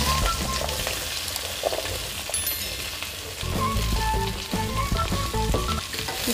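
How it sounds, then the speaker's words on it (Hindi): Papaya pieces fry in hot oil in a kadai, producing a loud, steady, close sizzle that swells briefly midway, with light stirring and clinking layered over the hiss. "इसमें हम डालेंगे पपीता।"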